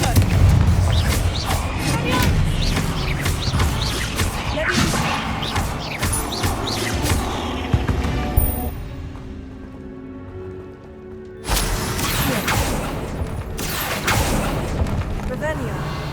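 Confringo blasting spells go off in Hogwarts Legacy as repeated crashing booms and smashes, loud and close, with a quieter gap partway through before more blasts, while a voice speaks.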